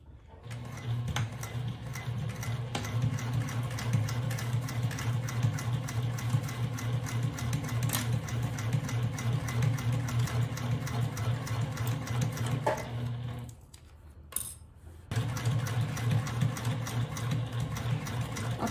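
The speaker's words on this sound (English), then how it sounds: "I'm going to start to stitch" A sewing machine stitches fabric for a hobo bag in a long, steady run with an even ticking rhythm. It stops briefly, then resumes.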